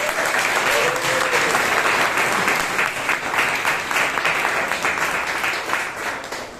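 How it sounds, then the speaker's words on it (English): Sustained applause from a Toastmasters meeting audience, steady dense clapping filling the room for several seconds at even loudness, slowly tapering toward the end. "So please give them a big round of applause."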